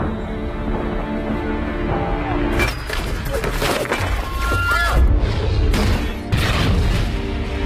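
Heavy gunfire and booming blasts in an action film firefight, loud sharp bursts and crashes overlapping through a dense, chaotic battle mix.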